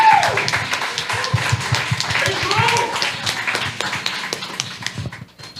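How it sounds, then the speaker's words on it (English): Audience applause at an education talk, rapid clapping from a smaller crowd with a whoop and voices over it, fading out toward the end. "Can we get a round of applause?"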